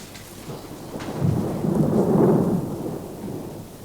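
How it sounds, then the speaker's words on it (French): A thunderstorm with a low rolling thunder rumble that swells and fades over a few seconds, under a steady wash of rain, fairly close and with no voices. "Il paraît que Gernicot déteste l'orage."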